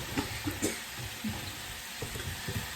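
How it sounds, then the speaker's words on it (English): Steak and onions sizzling in a hot pan as they cook down until caramelized and jammy, a steady close frying hiss with occasional stirring scrapes, no voices. "Now I'll continue cooking this until it's caramelized and jammy."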